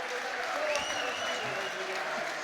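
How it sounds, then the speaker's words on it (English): Wrexham supporters on their feet at a football match against Charlton Athletic, applauding steadily as a dense, even patter of clapping from a stadium crowd, with a commentator talking over it throughout. "the Wrexham fans are on their feet applauding him"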